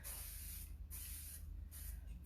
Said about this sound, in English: Spray the trainers,